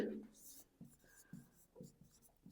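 Pen scratches across paper in a math lesson on triangles, light and close in short strokes, under quiet background noise.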